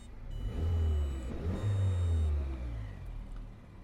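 Car engine running in first gear with the clutch not engaging, a steady low rumbling idle that swells in two broad revs, close and fairly loud, with no talk.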